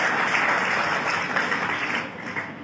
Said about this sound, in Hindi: इनके लिए तालियां बजाइए भाई साहब के लिए।